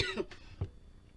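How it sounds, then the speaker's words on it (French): Two quick, close coughs from a woman with bronchitis, one right after the other, then quiet. "Du coup, par moments, je tousse tous."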